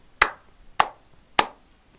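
Three sharp, separate hand claps spaced evenly about half a second apart, close and crisp, each ringing briefly into a quiet background with no voices.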